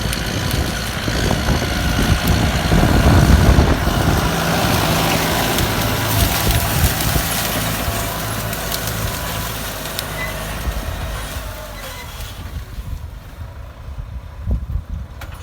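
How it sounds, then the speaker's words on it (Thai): A Kubota M108S tractor plowing a rice field in third gear at 1500 rpm rumbles loudly and steadily, a heavy continuous drone with some clattering, easing off slightly toward the end. "ไถเกียร์สามรอบพันห้านะครับ"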